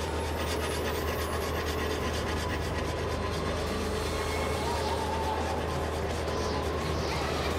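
A cartoon train rolls along its rails with a steady, continuous rumbling clatter and a low mechanical drone, fairly loud and near throughout.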